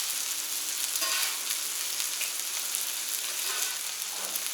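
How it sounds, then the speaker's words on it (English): Onions and smash burgers sizzle on a Camp Chef FTG600 flat top grill in extreme cold, a continuous bright crackling hiss close up, with no talking. "Let those onions cook. Burgers get nice and steamed."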